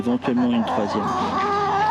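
Chickens cluck close by, a chatter of rising and falling calls, with a voice speaking over them.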